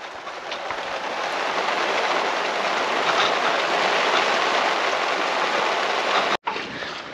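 A rain squall lashes a sailboat at sea, a loud, dense, unbroken roar of rain that fills the whole stretch, cutting off abruptly near the end.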